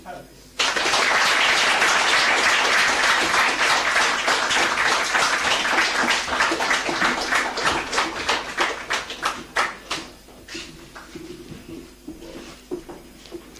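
Audience applause at a knighting ceremony for St. Lucia's 2022 Independence celebrations: a sustained, dense round of clapping that thins into scattered individual claps before fading out.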